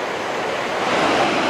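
Clear mountain stream water rushes through the Partnach gorge, a dense steady roar of flowing water, loud and continuous with no voices.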